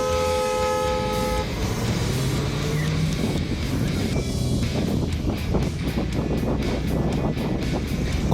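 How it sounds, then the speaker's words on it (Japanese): Car horns honk repeatedly in busy traffic at a road junction in Turkey, short toots and longer blasts overlapping against a constant engine rumble, near and loud throughout. "もうそこら中でクラクションを鳴らしてます。"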